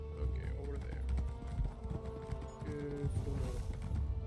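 Horse hooves clop steadily in The Elder Scrolls Online, a continuous rhythmic patter of game footfalls under background music and ambient game sound, with no one talking.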